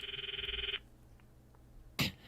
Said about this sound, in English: I stopped the video and called Myri's phone from my address book.